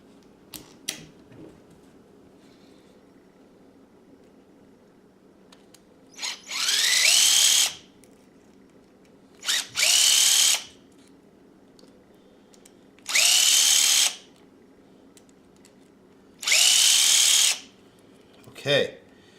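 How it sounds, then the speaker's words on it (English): A power drill backs bolts out of the bulkhead of a Traxxas E-Revo 2.0 RC car, four short loud whirring bursts separated by pauses with quiet handling clicks between. "Once you get them all cracked, then you can go ahead and use your power tool to take it the rest of the way out."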